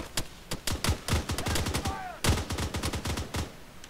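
Rapid gunfire in the military video game Arma 3 during a helicopter assault: dense bursts of automatic rifle shots rattle close by, with a brief pause midway before another fast volley and scattered shots.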